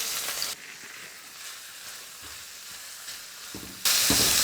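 Sliced onions sizzle and hiss in a hot pan, a steady close frying sound that grows louder and brighter at the end as the pan is stirred.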